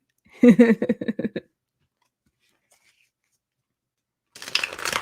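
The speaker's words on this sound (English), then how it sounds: "All right, doing a little shuffling." Tarot cards being shuffled by hand, a brisk burst of riffling and flicking near the start, a pause, then a second shuffle at the end.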